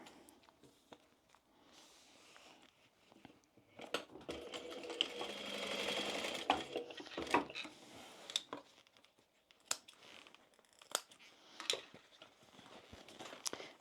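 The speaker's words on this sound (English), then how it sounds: "we're going to sew down here at the seam allowance given in the pattern" A domestic sewing machine stitches a seam along the bottom of a tote bag, running in uneven bursts with a steadier stretch in the middle, alongside clicks and handling noises of fabric.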